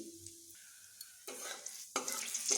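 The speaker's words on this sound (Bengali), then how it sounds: "কড়াইতে আমি তেল দিয়ে দিয়েছি এখানে আমি একটা শুকনো লঙ্কা ও কালো জিরেগুলোকে ফোড়ন দিয়ে দিচ্ছি" Dry red chili and black cumin seeds tempering in hot oil in a wok, quiet at first, then bursts of crackling sizzle and stirring that grow louder toward the end.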